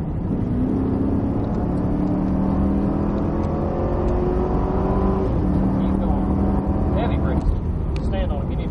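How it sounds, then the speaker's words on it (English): A Cadillac CTS-V engine pulls hard at full throttle, rising steadily in pitch over several seconds before easing off, heard loud and close from inside the car, with a voice speaking over it. "keep rolling the power in, let her rip."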